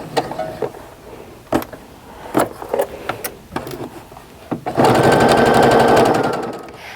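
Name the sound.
sewing machine stitching quarter-inch seam on mug rug block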